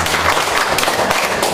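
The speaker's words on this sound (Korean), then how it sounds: "박수 한번 치겠습니다" Brief burst of clapping from a church congregation during a sermon, loud and close, a dense flurry lasting just over a second.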